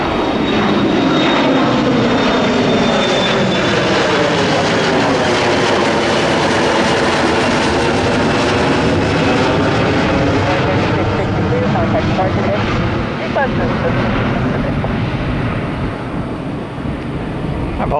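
A jet airliner, an Embraer, roars loudly and steadily on takeoff at an airport, its broad engine rumble filling the whole span with a slow sweeping pitch as it passes near.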